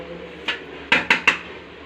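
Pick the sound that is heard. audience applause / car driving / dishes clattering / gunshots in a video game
dishes clattering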